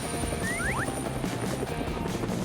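Steady whirring drone of a helicopter, loud and continuous throughout, with a few brief whistling sweeps layered over it near the start and no one speaking.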